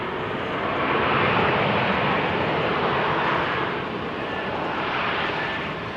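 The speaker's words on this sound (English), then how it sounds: "KLM flight 1828 having arrived from Stuttgart, Embraer 175." A KLM Embraer 175 jet arriving at Amsterdam Schiphol on a showery day produces a steady, broad engine roar that swells slightly and then holds. The sound is continuous and fairly close, with no one talking.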